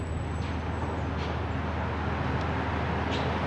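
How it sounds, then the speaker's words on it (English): City exterior ambience drifts in through an open apartment window: a steady low traffic rumble with faint passing swells and a high distant whine, fairly quiet and continuous without speech. "but you can hear more of the exterior near an open window."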